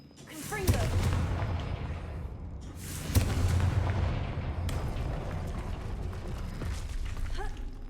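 Confringo spell blasts in Hogwarts Legacy, two loud booming bursts a couple of seconds apart, each followed by a rumbling roar and crackling debris that lingers before fading.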